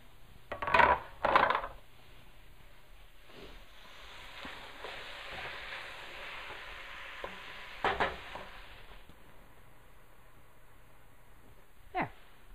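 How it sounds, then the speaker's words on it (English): Onion, garlic, ground beef and sausage fry for chili in a quiet, steady sizzle, broken by a few louder stirring scrapes and clatters near the start and again midway. "that gets the onion, the garlic, the ground beef, and the sausage cooking happily"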